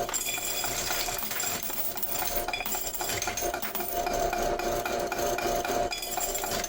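Laundromat quarters clink and rattle continuously as a large pile of coins is handled and sorted, with steady metallic jingling at close range and no talk.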